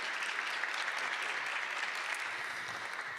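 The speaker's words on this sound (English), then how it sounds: "No one give her a round of applause for this." Audience applause at a ceasefire rally or summit, a steady dense wash of clapping that holds loud and even throughout with no talk over it.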